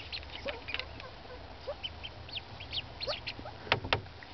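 Call ducks, a small domestic duck breed, quack in short scattered bursts close by, some calls overlapping, with a steady low hum underneath and no speech.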